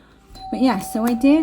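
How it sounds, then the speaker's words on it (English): A doorbell chimes indoors, three clear ringing tones in quick succession, close and fairly loud, following a brief spoken phrase. "that's the doorbell."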